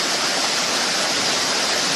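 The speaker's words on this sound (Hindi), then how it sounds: "लगभग 100 मीटर पीछे नदी इस गुफा में प्रवेश करती है।" A river rushes into a cave, producing a dense, loud, unbroken roar of flowing water that stays steady throughout with no voices.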